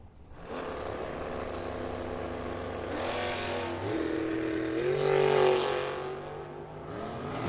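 Drag racing cars make a run down the track at Firebird Motorsports Park, one of them a Mustang with a vinyl roof. Loud engines roar and rise in pitch as they accelerate, with the sound building and sweeping past toward the end.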